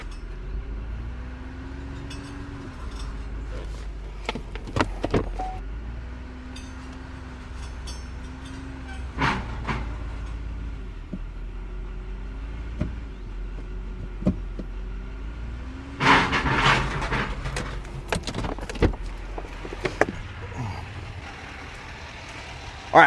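A dumpster trailer being maneuvered into position, a low steady engine rumble with whining hydraulic tones, scattered metallic clanks and knocks, and a louder burst of rattling near the end, heard at moderate distance without talk.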